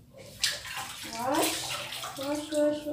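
Water runs from a tap over radish being washed for shrimp sinigang, a splashing rush that shifts as the vegetable moves under the stream, with a voice speaking over it.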